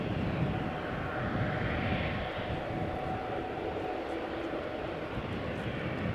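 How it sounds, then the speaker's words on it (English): A British Airways Airbus A320 on departure at Amsterdam Schiphol, a loud, steady jet engine roar heard from near the runway's northern threshold, holding a broad rumble throughout. "Speedbird going to London Heathrow, flight 431. Airbus A320, 10 years old"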